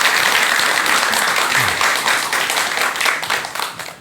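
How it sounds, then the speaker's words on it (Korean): Loud, sustained applause from a lecture audience welcoming the speaker: a thick, continuous wash of many clapping hands, close and even throughout, with no voices over it. "여러분 큰 박수와 함께 강의"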